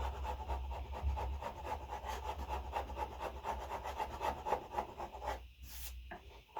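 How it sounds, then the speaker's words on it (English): Sandpaper rubbing wood off a guitar fretboard, a steady rasping scrape in repeated back-and-forth strokes, close and continuous, with a brief pause near the end. "whatever's left, I'll just sand it really. And sand it off."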